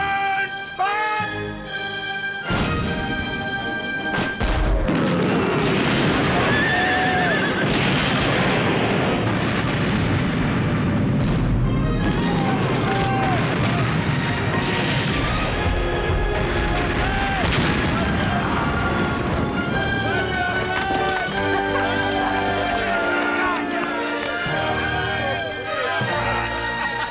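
Broadside of a ship's cannons firing in alternating volleys during a naval battle, loud booms and blasts rolling over one another under shouted commands and dramatic music, continuous and dense throughout.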